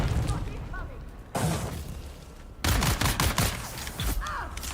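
A grenade blast and gunfire in the video game Dune: Awakening, heavy booms and rapid bursts of shots cutting in abruptly at close range over a player's running commentary.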